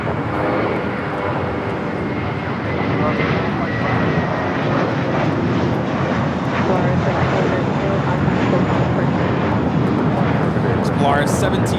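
Airbus A321 jet taking off at Los Angeles airport, a steady loud engine roar with broadband rumble holding throughout, a faint voice talking underneath.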